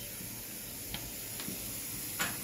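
Potato pieces frying in a pan with salt and turmeric give a faint, steady sizzling hiss with a few soft crackles and pops, heard without talking.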